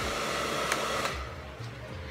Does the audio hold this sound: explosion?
no